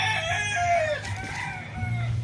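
A large fighting rooster crows once, the drawn-out call loud and close, with a few clucks and faint farmyard background around it.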